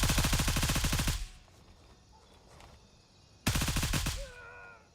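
Bursts of rapid automatic gunfire in a video game, a loud rattling volley of about a second, a quiet gap, then another sharp burst with a ringing tail.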